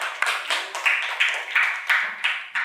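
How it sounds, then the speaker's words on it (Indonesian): Classmates in a school lesson give a short round of hand claps, with distinct bursts coming in a steady rhythm, moderately loud and close, with no voices over them. "Aplaus dulu buat temannya"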